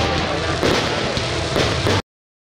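Fireworks at an evening village festival crackle and boom in a dense, continuous barrage, with loud bursts landing near 0.6, 1.5 and 1.9 seconds before the sound cuts off abruptly.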